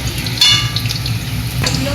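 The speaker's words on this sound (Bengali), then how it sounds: "এইবার এই আলুগুলো আগে ভেজে নেব।" Potatoes frying in hot oil for a mutton curry make a continuous loud sizzle and crackle, with a brief sharper burst partway through.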